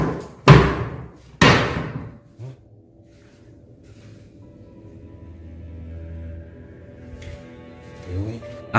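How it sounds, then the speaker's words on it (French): A door slams shut with a loud bang and then bangs open again about a second later. Both hits are sharp and close, followed by a faint rumbling background and a few light knocks. "la porte se soit fermée puis réouverte si violemment"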